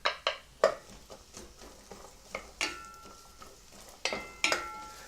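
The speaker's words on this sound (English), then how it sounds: "Now just gonna stir the onions around in there just a little bit for about a minute or two." Onions stir in hot oil in a pot as a soup base cooks, giving a soft sizzle with about a dozen sharp spoon-against-pot clinks and scrapes spaced irregularly, close by, with no voices.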